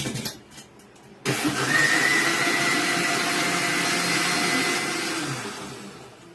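A kitchen mixer grinder whirs to life blending sabja seed lassi, starting abruptly after a quiet moment and running as a loud, steady motor hum that eases slightly near the end.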